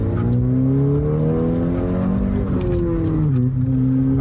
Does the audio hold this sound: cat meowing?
no